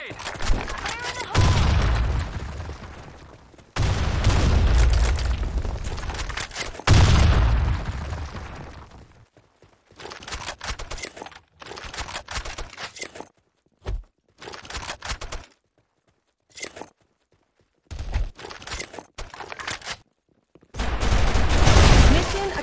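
Bursts of rapid gunfire and heavy explosive booms from the Blackshot shooting game, including a grenade blast, loud and close with broken pauses and scattered single shots between the longer volleys, under occasional game voice callouts.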